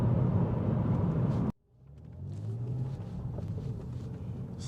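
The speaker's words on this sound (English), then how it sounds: "Oh, what a good sounding engine." A BMW E82 125i with a 3.0-litre straight-six engine runs in M Sport trim, a loud low drone that cuts out abruptly, then swells back in as a steadier rumble.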